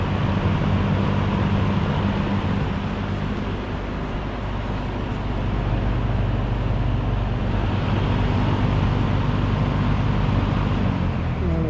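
An old box fan runs on medium speed indoors with a furnace going, giving a steady, even whoosh of moving air over a low hum for the whole stretch.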